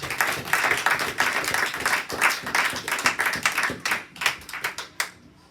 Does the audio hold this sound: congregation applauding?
yes